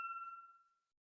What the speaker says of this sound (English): I've got church bells going off